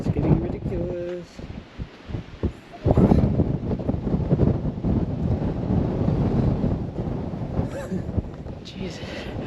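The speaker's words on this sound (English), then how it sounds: "This wind is getting ridiculous." Strong gusts buffet the microphone outdoors in a Utah canyon park, a loud rumbling roar that swells and persists for most of the clip, with a person talking briefly before the wind takes over.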